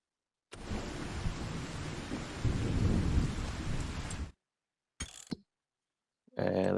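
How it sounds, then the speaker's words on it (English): Steady rain with rumbling thunder in Farming Simulator 25, a dense, loud wash of downpour lasting several seconds, followed by short bursts of game sound after brief silences. "We have a rainy day"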